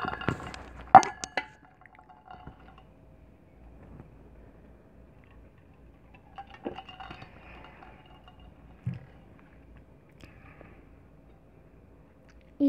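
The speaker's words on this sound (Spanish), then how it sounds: "Agüita." Water poured and dripping into a glass container while a vegetarian burger is prepared, with light clinks and trickles early on, then sparse faint drips and taps in a quiet room.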